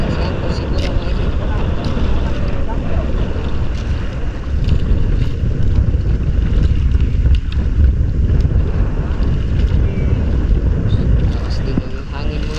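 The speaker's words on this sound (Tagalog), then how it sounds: "Lakas din ang hangin mga idol ba?" Strong wind buffeting the microphone in a low, constant roar, with faint voices in the background.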